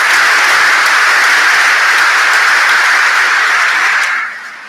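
Sustained audience applause for a conference panel at a live crypto event, a dense steady wash of many hands clapping that holds evenly, then tapers off near the end.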